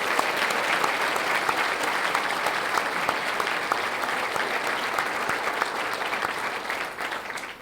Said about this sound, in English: give a round of applause for all of those that have joined us tonight